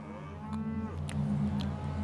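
A cow on an Australian dairy farm gives a low, drawn-out moo close by over a steady rumble of farm background noise, with a few faint clicks scattered through it.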